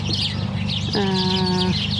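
Chickens cluck nearby with a low, continuous murmur, and one hen lets out a longer drawn-out call midway through.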